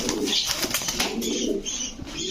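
Young adult racing pigeons at a shop, with close, busy cooing and rustling and a brief hint of flapping wings amid continuous bird activity.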